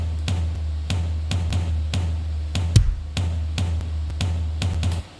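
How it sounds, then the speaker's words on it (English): Quantized drums play a basic kick and floor tom pattern: steady, tightly timed deep thumps with short attacks repeat evenly throughout, loud and close, with no voices. "But some, basic kick and a floor tom pattern."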